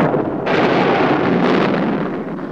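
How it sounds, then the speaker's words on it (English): Thunder rolls as a loud, continuous broadband rumble that swells sharply after a moment and sustains without a break, with no voices over it. "Thunder and lightning!"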